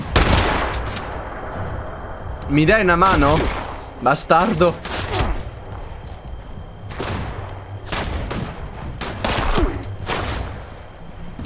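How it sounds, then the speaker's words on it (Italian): Gunfire in the video game Fallout 76: sharp shots and bursts crack repeatedly across the scene, some in rapid volleys, with someone speaking Italian between them. "Chi è che spara? Tu spari?"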